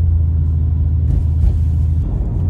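A BMW M2 engine rumbles while driving on the road, a steady, loud, deep drone that holds throughout with a slight dip near the end, with no talking over it.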